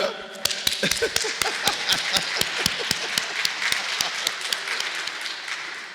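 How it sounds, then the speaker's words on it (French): Church congregation applauding the parish priest at a Sunday Mass, a steady round of claps from many hands with sharp individual claps standing out throughout, fading slightly toward the end. "On applaudit encore pour notre Père curé,"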